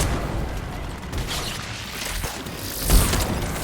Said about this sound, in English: And that's all the explosions you're hearing in the background is when she does a biotic explosion.